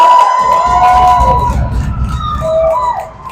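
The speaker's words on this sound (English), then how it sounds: "Wildcat fans applaud the correct call." Youth hockey fans at a rink cheer and clap after a high-sticking call, a loud crowd roar with whistles and high tones cutting through, fading near the end.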